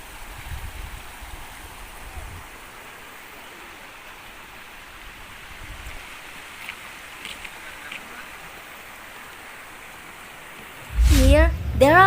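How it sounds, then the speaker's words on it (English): A small river flowing under a bridge near a tea garden, a soft, steady rush of water at a distance, with a voice speaking briefly near the end. "we can see the view of the plants, the flower, and also the small river under this bridge"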